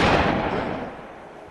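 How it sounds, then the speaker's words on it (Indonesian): A burst of gunfire in a gang shootout scene, with members of the Mara Salvatrucha gang firing on a man; a loud, dense blast of shots that fades out over a second and a half, with no talking. "beberapa kali tembakan ke arah Casper, disusul dengan berondongan tembakan dari anggota Mara Salvatrucha lainnya"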